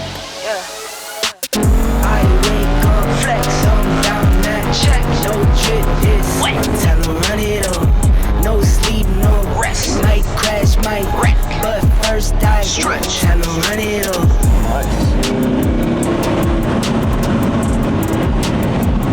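Lamborghini Huracan LP 610-4 driving in Strada mode, its engine note loud and close, rising and falling through revs over a steady roar after a brief quiet start.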